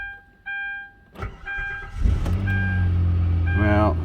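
A Hyundai with about 193,000 miles starts on a snowy morning. Warning chimes ring, the starter cranks briefly, and the engine catches and settles into a steady idle. More chimes sound near the end.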